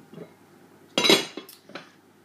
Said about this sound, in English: pop the lid on